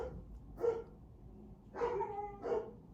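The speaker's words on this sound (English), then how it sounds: "My dogs are freaking out now." Dogs barking indoors, three separate loud barks spaced apart, the last two close together, with quiet pauses between.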